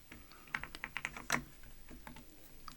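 Computer keyboard typing Python code, a quiet run of soft clicking keystrokes in irregular bursts with one louder cluster of taps, close and alone without talk.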